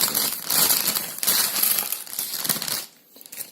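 A plastic parcel bag holding small LED strip connectors is handled up close, giving loud, continuous crinkling and rustling that eases off near the end, with no talk.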